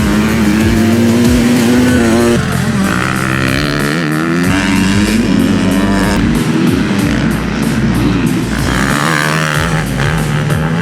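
A 2022 KTM 250SXF four-stroke motocross bike rides hard and close, its engine loud and continuous as the revs rise and fall while it pulls through corners.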